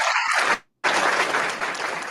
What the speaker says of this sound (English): That gets a hand clap or something.